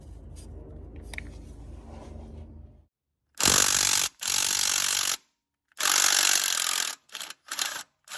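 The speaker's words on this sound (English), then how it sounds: "when you get it on the nut, you just hit it with your impact" An impact wrench loosens a nut on an Audi 2.0T TFSI engine during engine removal, firing in several loud close bursts of rattling hammering separated by short silences, after a stretch of quieter workshop rumble.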